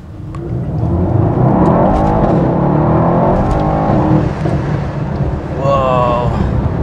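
Strong engine acceleration from a 2018 Mercedes-AMG E63 S 4MATIC+ in Sport Plus mode, heard from inside the cabin as a loud, sustained roar that rises and shifts through gears, with wind and road rumble.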